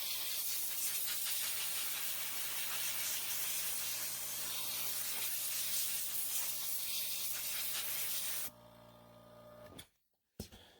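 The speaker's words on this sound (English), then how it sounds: "And then I'll take compressed air." Compressed air blasts steadily to cool a freshly pressed part while making magazine holders, a loud continuous hiss lasting about eight seconds before cutting off, followed by brief quieter noise.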